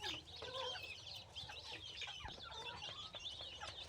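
Hens and a Thai game rooster in a cage cluck and chatter continuously in short, overlapping calls, fairly close but soft, with faint rustling underneath.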